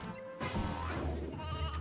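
Sheep bleating in the Toy Story 2 video game, a single loud bleat starting abruptly and sustained over a game sound backdrop with no talk.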